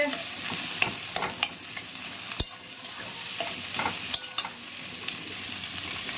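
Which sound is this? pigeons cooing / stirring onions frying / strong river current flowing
stirring onions frying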